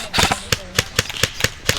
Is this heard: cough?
no